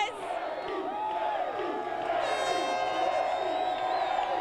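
A large crowd cheers and whoops in a loud, continuous roar at a Chicago Cubs 1998 National League wild card post-game celebration, with some voices rising above the din.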